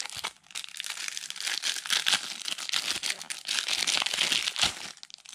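Crinkly plastic wrapper of a Transformers TCG booster pack being torn and shredded open, close and loud, with continuous crumpling and ripping for several seconds.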